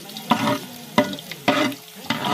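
Garlic frying until brown sizzles in a pan. A utensil stirs it in four evenly spaced scraping strokes, close and clear, with no talking.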